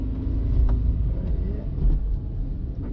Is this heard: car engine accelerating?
yes